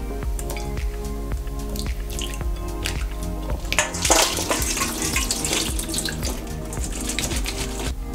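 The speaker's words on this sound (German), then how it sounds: "Die schneide ich in Würfel und lege sie in kaltes Wasser." Diced potato cubes are tipped into a bowl of cold water, making close, wet splashing and dripping sounds with a brief louder splash midway, over a steady background hum.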